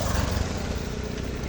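Motorbikes on a street in Nepal, a steady close engine rumble throughout a short stretch, with voices partly over it.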